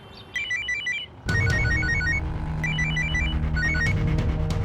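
A phone rings with a repeating electronic melody, loud and close, playing through several cycles over a background hum without being picked up.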